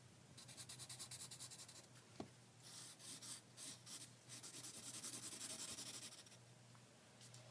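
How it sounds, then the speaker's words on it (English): Pencil scratching across paper while shading in a drawn rectangle, steady rhythmic rubbing strokes in bursts with short pauses, close and quiet, with no talking. "we're going to draw our rectangle, and we're going to shade in."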